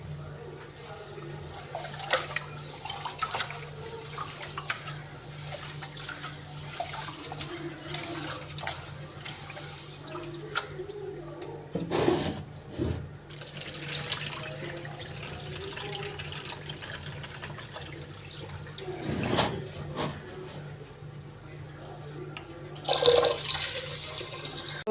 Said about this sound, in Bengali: এখন আমি ভালো করে ধুয়ে পরিষ্কার করে নেব।